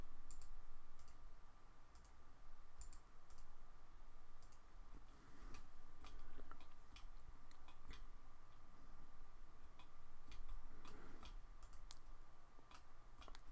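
Faint, sharp computer mouse clicks tick out irregularly while drawing in AutoCAD software, scattered through a steady low background hum with no voices.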